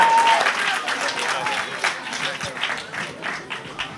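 A comedy show audience applauding to welcome comedian Vita Žiba onstage, a dense burst of clapping from a crowd that gradually thins and fades over a few seconds, with some voices mixed in.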